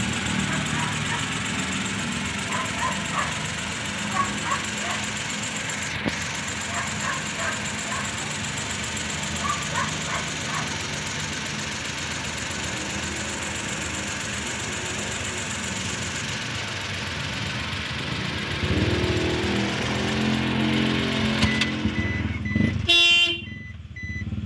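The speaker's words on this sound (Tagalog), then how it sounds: "pinatay at pinaandar ko lang yung makina" A Suzuki DA63 K6A engine idles steadily at close range after an overhaul, a low continuous rumble, with faint beeps and clatter near the end.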